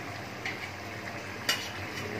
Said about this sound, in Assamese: এতিয়া মই পনীৰ ঢালিব লৈছোঁ মহাৰল খাই